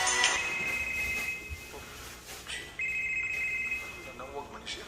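A telephone rings in a Cebuano radio drama: a bright electronic ring runs in two long bursts with a short pause between them, mixed under music, voices and other sounds.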